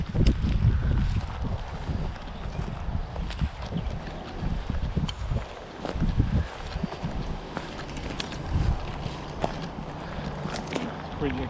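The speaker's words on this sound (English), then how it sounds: "It's windy, eh?" Gusty wind buffets the microphone in rough, continuous bursts in an exposed, abandoned coke factory wasteland, with faint voices and outdoor rustling underneath.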